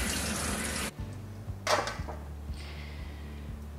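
Tap water runs steadily at close range as zucchini are washed at a sink, then the flow stops, followed by a few soft knocks and splashes.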